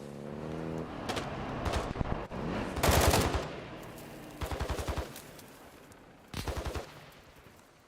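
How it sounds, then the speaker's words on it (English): Bursts of automatic gunfire in Call of Duty: Modern Warfare II, several rapid volleys separated by short pauses, fairly loud and close, with no voices over them. "Oh man, I hear gunfire."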